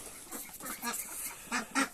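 Farm ducks quack in a few short, loud honking bursts close by, irregularly spaced, with quieter gaps between calls.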